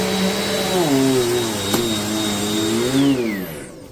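Amazon Basics upright bagless vacuum cleaner running at close range with a steady, loud motor whine whose pitch dips and rises as it strains, then tapers off toward the end.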